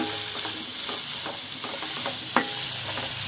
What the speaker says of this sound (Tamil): நல்லா அந்த நிறம் வந்து லைட்டாக மாறுற வரைக்கும் நல்லா வதக்கிடுங்க